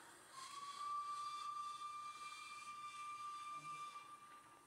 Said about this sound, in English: It's a very cool whistle